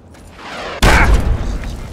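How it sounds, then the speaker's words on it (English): A sudden loud explosion in the video game Fallout 3 on Xbox Series X, a sharp deep boom at once followed by a rumbling, crackling tail that slowly fades. "Oh, explosions."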